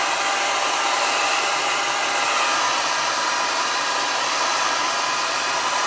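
A handheld hair dryer runs on its highest speed and hottest heat setting while drying wet hair, a loud, steady, close blowing whoosh with no change in pitch and no one talking.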